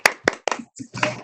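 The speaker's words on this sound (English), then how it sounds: "a little applause would be good." A few sharp hand claps from a small group at a county board meeting, scattered over about a second, mixed with voices talking.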